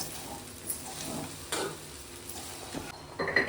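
Cooked rice being stirred into egg rice in a pan, with quiet intermittent scrapes and clinks of a spoon against the pan over a faint sizzle.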